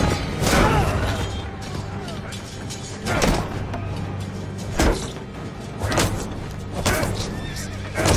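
A horse whinnies amid a busy Game of Thrones Season 1 soundtrack, with sharp thuds and clatter punctuating the scene and the neigh rising loud over the mix.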